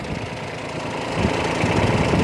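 A used Kubota B2140S tractor engine runs steadily close by with a rough, even mechanical drone that grows slightly louder after about a second.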